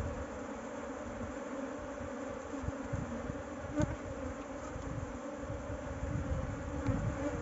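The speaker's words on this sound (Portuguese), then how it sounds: "As abelhas estão assanhando demais." Honey bees buzzing steadily throughout a honey harvest, a dense continuous drone close by with small swells in loudness and no talk.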